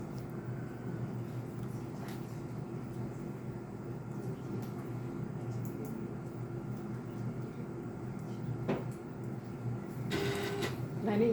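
A laboratory autosampler injecting a 1 microliter sample, a faint printer-like mechanical whir and brief clicks over a constant low instrument hum, with a louder burst of movement near the end.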